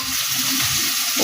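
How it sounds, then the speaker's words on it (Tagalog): Small bilis fish frying in a pan, a loud close hiss of bubbling oil with steady crackle and faint stirring scrapes. "Bilis ang piniprito natin."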